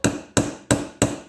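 A hammer whacks a seal fitted with a small tension spring into a CompAir mobile compressor chassis, giving four sharp, evenly spaced metallic blows, close and loud.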